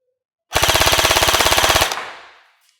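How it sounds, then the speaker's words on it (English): A Specna Arms Edge airsoft gun fires a loud, rapid full-auto burst of about twenty evenly spaced shots, recorded close at the muzzle, with the mechanism winding down into a short fading tail. "And now full auto at the muzzle."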